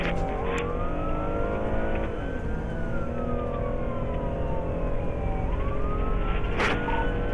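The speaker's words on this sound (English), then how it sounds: "A trooper witnessing the erratic driving activated emergency lights and sirens" A police car siren wails through a high-speed chase on a highway, its tone sweeping slowly up and down over steady engine and road roar, loud and continuous, with a sharp burst near the end.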